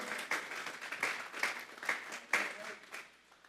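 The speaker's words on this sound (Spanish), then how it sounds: "Dele esa ofrenda de palmas a Dios en esta hora" Church congregation clapping as an offering to God, a few distinct claps with rhythmic bursts at moderate distance, fairly faint and fading toward the end.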